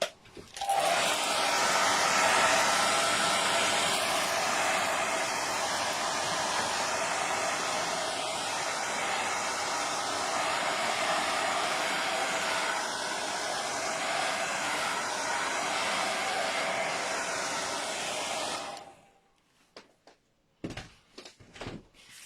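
A hair dryer blows steadily and loudly for about eighteen seconds while drying a layer of paint, then switches off, followed by a few faint knocks and handling sounds.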